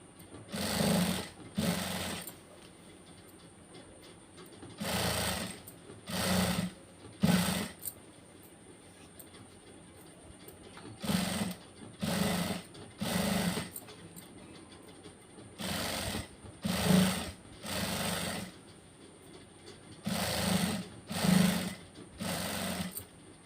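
A sewing machine stitches a blouse hem in short repeated bursts of fast rattling clatter separated by brief pauses, close and fairly loud, with a faint steady high hum underneath.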